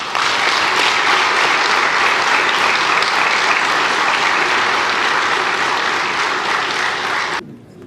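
Loud, sustained applause from a large audience at a ceremony marking a prime minister's handover, steady dense clapping throughout that cuts off abruptly near the end.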